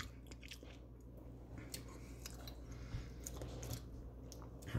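Noodles are chewed during a taste test, close and quiet, with a run of soft, wet crunches and bites in an irregular rhythm and no talk.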